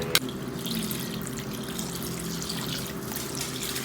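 Water pours steadily into a pot of chicken curry, a continuous splashing stream that begins with a sharp knock and runs unbroken at moderate volume throughout.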